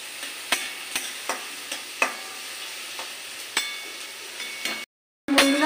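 Onions fry in a pan for black pepper chicken, a soft continuous sizzle broken by regular spatula scrapes and taps. A brief silent dropout comes near the end before the sizzle returns.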